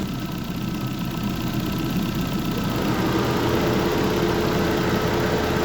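A car engine idling steadily with a low rumble, joined partway through by a rising whir of the engine cooling fan running alongside it.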